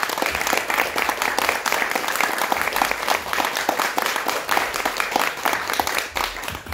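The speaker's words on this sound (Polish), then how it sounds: "Wielkie brawa." Sustained applause from a concert audience at Studio Rembrandt in Białystok, dense steady clapping that fills the room at even loudness throughout, after a band member is introduced.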